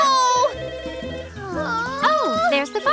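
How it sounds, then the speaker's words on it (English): A cartoon telephone rings in bright warbling tones, mixed with animated character voices and music throughout. "Oh, there's the phone!"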